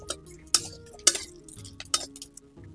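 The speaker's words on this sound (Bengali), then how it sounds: "রসুনটা ভালো করে নাড়িয়ে ছাড়িয়ে লাল করে ভেজে নেব" Garlic stirred in a little oil in a wok, a few sharp metallic clinks and scrapes of a spatula against the pan at irregular intervals over a low, steady sizzle, close and moderately quiet.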